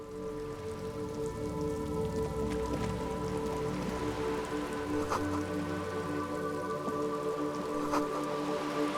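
Steady rain patters on a surface throughout in the Disco Elysium game world, an even, continuous wash of drops with a few brief louder splashes standing out.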